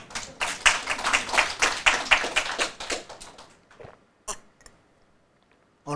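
An audience at a Buddhist temple sermon claps in a burst of uneven applause for a few seconds, then trails off into scattered single claps and quiet.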